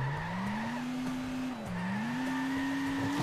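A car engine in the Turbo Dismount video game accelerates with a steady rising whine that dips briefly midway and then climbs again, while its tires squeal continuously throughout.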